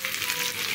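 Onions frying in oil after ginger and garlic for Odia dal fry, a dense, even hiss of sizzling heard close up with no pauses over a brief moment.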